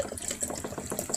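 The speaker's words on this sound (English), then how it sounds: "now pour the water in." Water pours steadily into guava syrup, a close continuous splashing gurgle with bubbly flutters throughout the short stretch.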